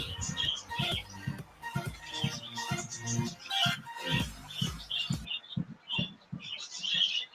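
Pet birds squawk and chirp in irregular bursts nearby, with a dense, busy stretch of calls that thins into scattered squawks toward the end.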